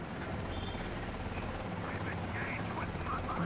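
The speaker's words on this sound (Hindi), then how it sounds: "हेलीकॉप्टर को मारते हैं।" Helicopter rotor and engine noise from the video game GTA Vice City, a steady, low whirring drone holding level throughout, with rain-like hiss and faint game effects layered over it.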